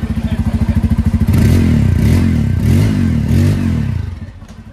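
A Bajaj Pulsar 250's dual-barrel exhaust, close and loud: an idle thump that swells into several rising revs before dropping back off toward the end, with no talk.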